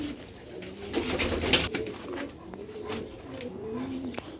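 Quality Sialkoti fancy pigeons coo repeatedly nearby in soft rolling phrases, with a few faint clicks and rustles between calls.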